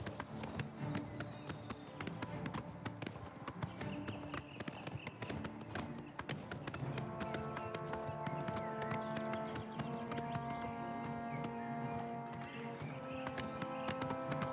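Horse hooves gallop in the Oblivion video game, a steady rhythmic clip-clop running throughout at moderate level alongside game music tones.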